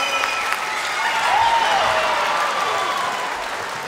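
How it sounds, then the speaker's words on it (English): Audience applause fills a live concert at the Plaza Theatre in Stockport, a steady, dense wash of clapping that swells slightly midway, with a faint tonal line drifting through it. "Let's have a round of applause for the choir who's helping us out tonight, everybody."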